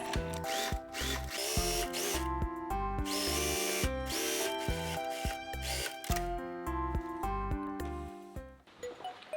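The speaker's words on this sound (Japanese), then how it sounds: "三つ折りの端 1、2 ミリのところを縫っていきます。" A sewing machine stitches 1–2 mm from the edge of a tri-folded fabric pocket opening on a shoulder bag's inner pocket: a steady close motor whir with rapid rhythmic needle pulses, stopping near the end.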